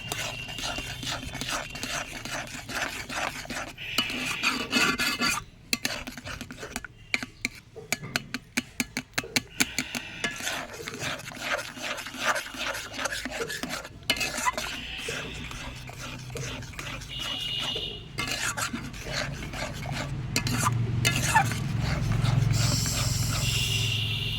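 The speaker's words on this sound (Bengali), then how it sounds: "মুগ ডালটা সিদ্ধ হয়ে গেছে এটা আমি এবার ঘেঁটে নেব" Boiled mung dal with turmeric is mashed in a pot, giving continuous rasping, scraping strokes of a utensil against the pot's bottom and sides, close and fairly steady, with no talking.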